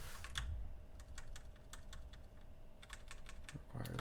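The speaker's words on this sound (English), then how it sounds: "Am I typing this wrong?" Typing on a computer keyboard while adding support for zero-conf channels in code, a quiet series of crisp key clicks in short bursts with a pause between them.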